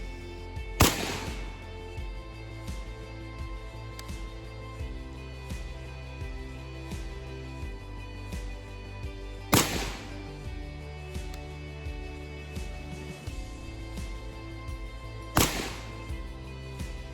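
Deliberate gunfire: three single sharp shots spaced several seconds apart over a steady, droning background, each a loud isolated crack.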